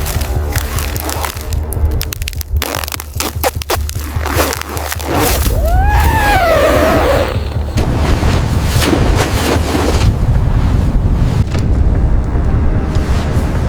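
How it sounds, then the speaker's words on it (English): Strong gusts of wind roar and buffet a tent on an exposed Everest ridge at night, a loud steady rush with flapping fabric and rising swells. "The wind is trying to rip our tent off the ridge"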